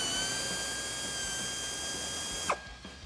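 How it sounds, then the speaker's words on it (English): An air ratchet with an 8mm deep socket spinning bolts loose under a Jeep Wrangler JL, a loud continuous high whir lasting over two seconds before cutting off into a couple of faint clicks, with no talk. "I'm just using an air ratchet just to speed up the process."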